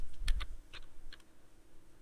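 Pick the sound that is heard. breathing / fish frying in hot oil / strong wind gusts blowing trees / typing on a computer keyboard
typing on a computer keyboard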